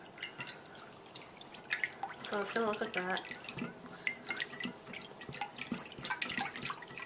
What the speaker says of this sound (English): So what we're going to do is just whisk it around